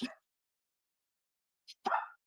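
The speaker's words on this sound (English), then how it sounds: "Hang on, dog's barking." A dog barks twice in short bursts, once at the start and again after a pause of more than a second, both fairly faint and slightly distant, with no talking.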